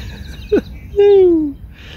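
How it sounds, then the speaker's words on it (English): Two clear bird calls ring out close by, a short downward note followed by a longer sliding whistle, over quiet outdoor background. "And the sound, the birds, just gorgeous"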